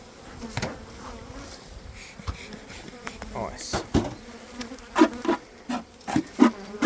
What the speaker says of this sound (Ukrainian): Бджоли виглядають гарно.